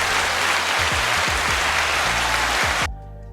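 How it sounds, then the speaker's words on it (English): A canned applause sample fires from a Zoom LiveTrak L-8 podcast mixer, a dense, even wash of clapping lasting about three seconds and then cutting off abruptly while someone talks underneath. "applause"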